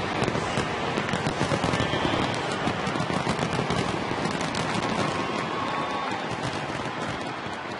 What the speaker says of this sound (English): Pretty amazing fireworks.